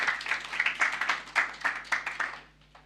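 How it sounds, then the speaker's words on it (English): Audience applause for a speaker at an evening talk, a burst of many hands clapping in a dense, fairly steady patter that fades out after a couple of seconds. "Please give her another round of applause."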